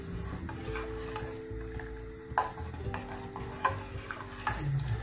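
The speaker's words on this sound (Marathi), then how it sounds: "अशी ढवळत राहून चांगली शिजवून घ्यायची आहे." A spoon stirs thick parboiled rice porridge cooking in a pot, producing soft scraping and intermittent sharp taps against the pot, along with a faint bubbling sizzle underneath. Close by, with no talk.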